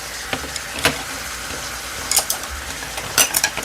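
Green onions, three stalks, stir-frying with king oyster mushrooms and a splash of water in a pan for dried-eggplant japchae; a steady sizzle runs throughout, broken by a few sharp scrapes and clinks of a utensil stirring.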